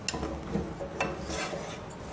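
A spoon scrapes and stirs a paste of ground coconut, cardamom and spices as it sautés in a pan for veg pulao, with soft rasping strokes and light metallic clinks, close and fairly quiet.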